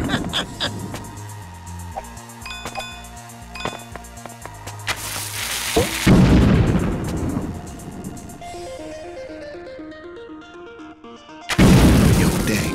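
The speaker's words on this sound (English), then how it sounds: "I got the stick of dynamite" Video game Awesomenauts: a stick of dynamite blows up to clear a turret, a loud booming blast rising out of game music and effects, followed later by a second sharp burst near the end.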